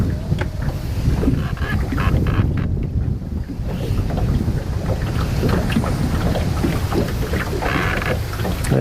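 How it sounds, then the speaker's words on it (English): Strong wind gusting across an open microphone outdoors on a fishing trip, a loud continuous roaring rumble with buffeting surges and no talk. "That wind is really picking up."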